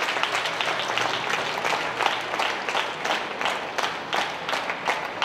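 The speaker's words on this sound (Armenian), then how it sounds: "Եկեք ծափահարենք բոլորին" Audience applause at the Miss Universe Armenia 2019 pageant show, a steady, dense wash of many hands clapping that holds for the whole stretch without fading.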